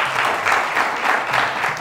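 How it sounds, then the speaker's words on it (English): Audience applauding a school quiz team at a televised contest, a dense, loud wash of clapping that swells in waves across the short stretch with no voices. "Let's give them a huge round of applause."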